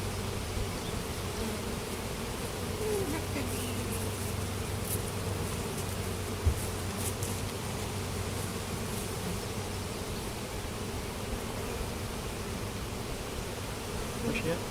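Dense, steady buzzing of many honey bees swarming close around an opened hive during an inspection, a continuous drone with no talk over it.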